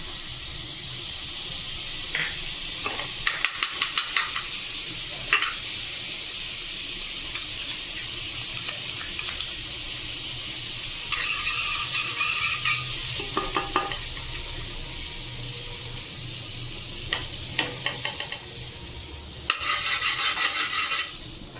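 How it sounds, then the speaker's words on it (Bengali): Two spoonfuls of butter sizzle with spiced chicken in a wok for butter chicken, a steady frying hiss broken by repeated stirring scrapes and metal clinks, close and continuous with no talking. "দু চামচ মাখন আমি দিয়ে দিলাম"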